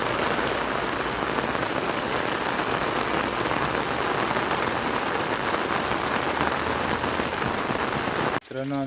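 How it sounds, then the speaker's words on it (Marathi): Heavy rain pours steadily on a rural Konkan roadside while people shelter beside a house, a dense continuous downpour that stays loud throughout before a brief sharp disturbance near the end. "तसं किती आता पाऊस आला चांगला मोठा."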